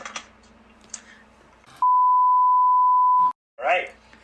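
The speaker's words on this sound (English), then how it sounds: "And thus ensued the 10-second long censor beep." A steady, pure-toned censor beep sounds loud and unbroken for over a second, cutting off brief podcast chatter before and after it.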